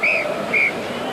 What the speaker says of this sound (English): That is the half-time whistle